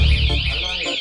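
A Neoulrim 3.0 Pro anti-theft alarm for electric bicycles, kick scooters and motorcycles sounds a loud, close, wavering electronic siren tone that sweeps up and down steadily, with a low rumble underneath at the start.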